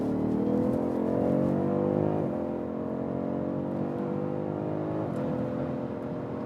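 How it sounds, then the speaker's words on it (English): A BMW M5 or M550i accelerates from roughly 80 to nearly 190 km/h, its engine a steady, smooth cabin drone climbing in pitch with brief dips at gear changes. "One more acceleration when we are already at speed."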